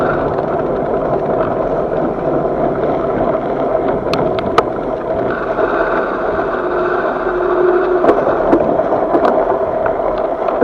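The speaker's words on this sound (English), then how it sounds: "So it's super windy this morning." Strong, steady wind roars across a moving bicycle on a snowy winter commute at about minus ten Celsius, a continuous loud rush with occasional sharper gusts and faint rattles.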